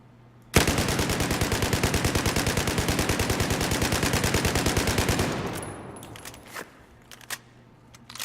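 A U-100 MK5 machine gun in Battlefield 4 fires one long rapid burst of about five seconds, evenly spaced loud shots, then tails off into echoing reverb and a few faint metallic clicks.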